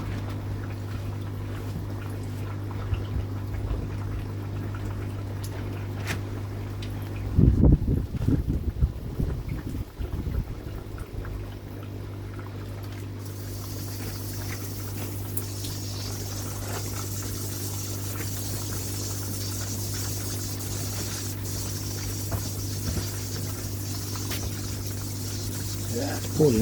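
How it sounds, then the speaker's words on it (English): Water pours from a leaking hose pipe connection at low pressure, a steady close hiss and splash running throughout under a low hum, with a person briefly talking partway through. "Yeah, it's pouring out everywhere."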